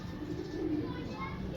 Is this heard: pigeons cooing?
yes